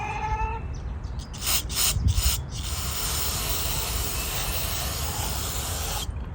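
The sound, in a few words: spraying cleaner into carburetor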